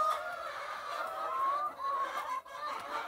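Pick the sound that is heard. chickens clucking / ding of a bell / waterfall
chickens clucking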